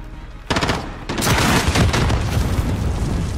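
Gunfire in Modern Warfare: a burst of rapid automatic shots, then a heavier booming barrage that continues loud and dense, with no talking.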